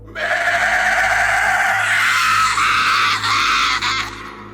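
A shrill, piercing goat-like scream rings out loud and sustained, wavering in pitch for several seconds before breaking off.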